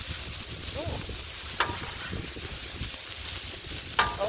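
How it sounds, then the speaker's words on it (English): Corn kernels sizzle steadily on a hot griddle, with a couple of sharp pops standing out above the constant frying hiss; no one speaks. "Oh my gosh, it's popcorn."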